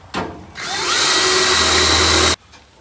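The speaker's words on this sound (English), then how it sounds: "let's get our Cleco holes drilled up here" A power drill bores Cleco holes in sheet metal for a 1970 Dodge Challenger floor pan hump. A short whir is followed by a steady, loud, high-pitched drilling whine for almost two seconds, which then stops abruptly.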